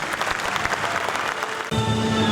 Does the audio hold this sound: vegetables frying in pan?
no